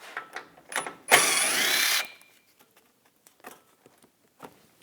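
A 10mm socket on a ratchet removes the bolts holding the front bumper shield of a 2013–2022 Buick Encore 1.4L: one burst of rapid clicking lasting about a second, with quieter taps and handling noises before and after.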